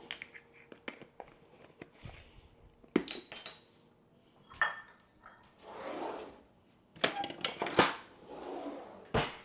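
Dry muffin ingredients, flour, salt and cinnamon, are stirred in a bowl with a utensil, giving intermittent scraping swishes and sharp clinks against the bowl, close and fairly quiet.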